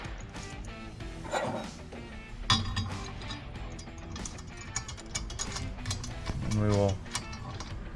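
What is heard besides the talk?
tightening Pit Bull stand bolts with a hex key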